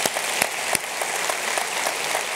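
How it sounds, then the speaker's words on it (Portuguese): Church congregation applauding together, a steady wash of many hands clapping at close range with a few sharper claps standing out, no voices over it. "E vamos aplaudir a Jesus"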